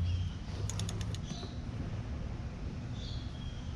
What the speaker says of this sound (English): So as I start to tighten, you're going to notice a click.